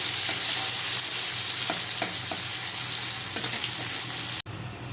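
Ghatkul leaf paste fries in plenty of oil, a loud steady sizzle close by with a few scraping stirs, then a brief sudden break near the end before the sizzle returns.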